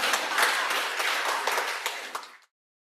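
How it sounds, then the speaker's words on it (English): Audience at a church pastoral care ministry service applauding themselves, a dense, steady burst of many hands clapping for about two and a half seconds before cutting off abruptly. "Now put those hands together and applaud yourselves."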